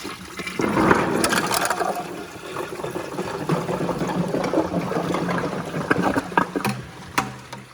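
A 2001 Gerber Aqua-Saver toilet flushes with golf balls dropped into the bowl, giving a loud, close rush and swirl of water with gurgling and splashing that tapers off toward a final draining slurp.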